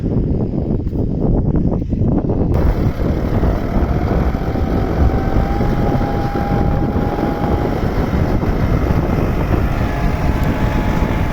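A tractor working between rows of planted watermelons in a field gives a loud, steady engine rumble with wind-like noise throughout and no pauses.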